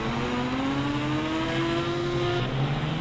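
Motorbike engine in an Indian bike-driving video game, a steady continuous drone whose pitch climbs gradually as it revs, heard alone and fairly loud throughout.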